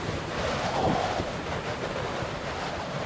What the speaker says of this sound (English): I don't know if you hear me for all this wind